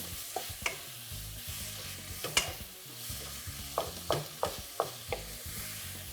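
Onions softening in a pan for umfino, an African greens dish, fry with a quiet, steady sizzle broken by a series of scraping stirs from a utensil.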